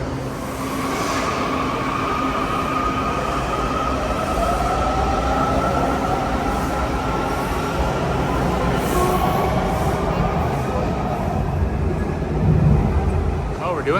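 A Washington DC Metro train at Metro Center station gives a steady, close rumble with faint wheel squeal running throughout, and a few muffled voices sit in the background.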